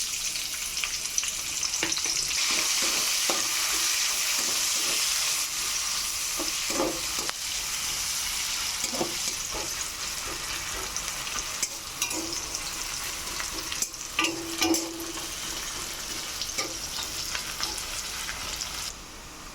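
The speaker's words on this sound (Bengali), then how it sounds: "এবার আমি পেঁয়াজ কুচি দিয়ে দেব।" Chopped onion fries in hot oil with cardamom, cinnamon and cloves for a Bengali chital fish kalia, giving a steady, close sizzle with occasional stirring scrapes throughout.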